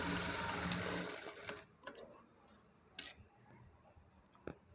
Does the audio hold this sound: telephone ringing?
no